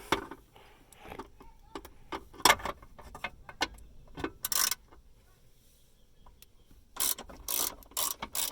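A ratchet loosens a bolt on a 1995 Honda Civic in quick bursts of clicking, some short and some longer runs, close up and fairly quiet, with pauses between strokes.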